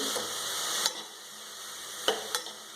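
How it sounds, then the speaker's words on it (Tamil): Onion, green chilli and snake gourd sautéing in oil for a kootu, a soft steady sizzle broken by a few sharp clicks of a spoon against the pan. "எண்ணெயில் வெங்காயம், பச்சை மிளகாய், புடலங்காய் அனைத்தும் நல்லா வெந்துருச்சு, வதங்கி வருது"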